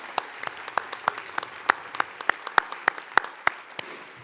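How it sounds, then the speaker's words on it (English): Audience at a medical school white coat ceremony clapping in a slow, unified rhythm, about a dozen loud, evenly spaced claps over a softer background of scattered applause. "Yeah, let's clap."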